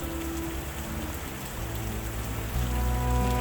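Heavy rain pouring steadily in a dense, continuous hiss, loud and unbroken, with a low tonal background underneath and no voices.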